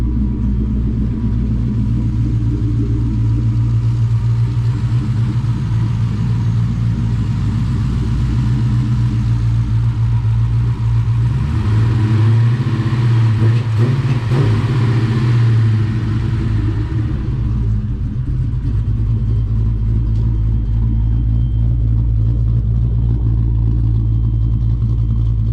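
Car engine idling steadily with a deep low rumble, swelling briefly as it revs midway before settling back to a constant idle; a Ford Coyote V8 swapped into a New Edge Mustang, loud and close with no talk.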